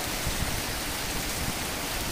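Heavy monsoon rain pouring down, a dense, even wash of noise that holds steady throughout with no voices.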